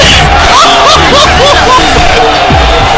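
Crowd at a JV hockey game roars and cheers wildly, a loud, dense wash of voices and whoops over the whole moment, with excited commentary talking over it.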